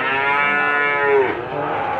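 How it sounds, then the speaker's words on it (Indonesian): A large male goat at a livestock market gives one long, deep, drawn-out bleat, loud and close. "kambing jumbo-jumbo jantan"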